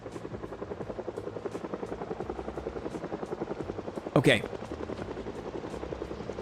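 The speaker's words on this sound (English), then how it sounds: "Helicopter is upon us." Helicopter in the Project Zomboid video game, a steady pulsing rotor chop throughout, with a short louder burst midway and a brief spoken word over it.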